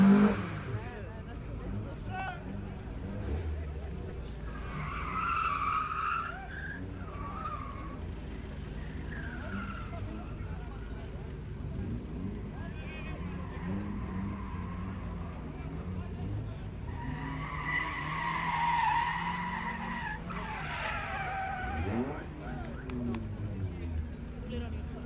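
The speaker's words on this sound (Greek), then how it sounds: "δύο Escort μέσα στην πίστα, ένα λευκό και ένα πράσινο" Two Ford Escort race cars, one white and one green, drift around a kart track, with repeated tire squeals and engine revs rising over a constant crowd murmur. A commentator talks throughout.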